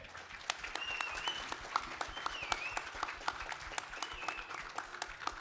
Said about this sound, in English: So big round of applause to Simon and Carlos.